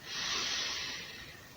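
One slow, audible in-breath through the nose during a morning stretching routine, a soft airy hiss that swells quickly and then tapers off over about a second and a half, close to the microphone and alone.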